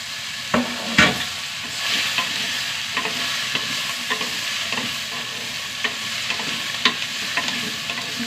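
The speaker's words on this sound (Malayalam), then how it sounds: "വഴുതന ഒന്ന് വഴണ്ട് വരട്ടെ." Eggplant and ginger sauté in a pan, a steady sizzle of frying underneath repeated scrapes and taps of a spoon stirring against the metal.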